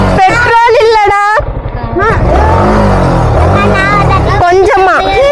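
A Yamaha R1 motorcycle engine starts and revs, its low, rising and falling drone swelling in the middle stretch, close by and partly buried under several loud voices talking and shouting.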